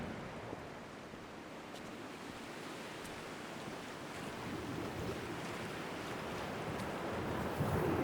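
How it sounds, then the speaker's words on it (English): Wind in a video game, a steady broadband whoosh like gusting air or surf that holds constant and swells slightly louder toward the end, with no talk. "The wind effect is well done"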